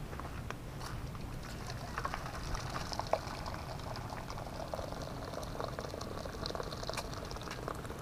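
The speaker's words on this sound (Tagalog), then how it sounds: "mainit na tubig." Hot water poured over a freshly cleaned carcass, head and feet removed, to loosen its thin skin: a steady, fairly loud hissing, bubbling rush that runs unbroken throughout, with no voices.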